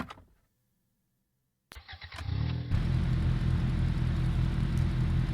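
A police car engine starting in the Police vs Crime mobile video game: a click, a short cranking turnover, then a steady loud idle hum that carries on alone.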